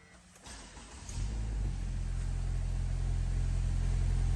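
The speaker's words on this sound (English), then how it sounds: "let's go ahead and start this vehicle up for y'all" A 2022 Subaru Legacy Limited starts from inside the cabin: a brief crank at about one second, then the engine catches and settles into a steady, fairly quiet idle rumble.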